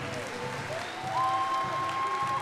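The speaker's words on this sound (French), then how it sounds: "Allez, on applaudit encore une fois." Audience applause at a beauty pageant gala in Wallis and Futuna, steady crowd clapping with a sustained tone and faint voices threaded through, swelling a little louder midway.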